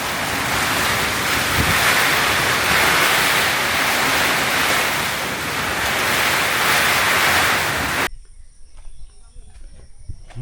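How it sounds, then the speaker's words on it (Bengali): Strong wind roaring across a farm during a storm, a loud, continuous rushing blast against the microphone that stops abruptly near the end, leaving a quiet background. "বাতাসের কি গতিবেগ"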